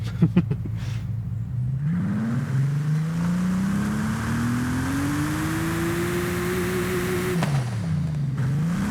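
A Bentley Continental Supersports W12 engine in Forza Horizon 5 hums steadily, its pitch climbing slowly as it accelerates, then dropping and rising again near the end, no talking.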